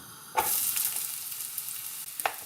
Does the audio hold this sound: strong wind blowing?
no